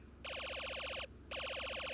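A Snap Circuits alarm integrated circuit drives a small speaker with a fast warbling electronic alarm, rapid repeating chirps in two bursts separated by a short gap, close up and steady, with no talking.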